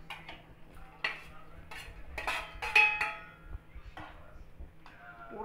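Pieces of bitter gourd clatter and plop into a metal pot of salted water, with scattered knocks and scraping of utensils against the pot, close by.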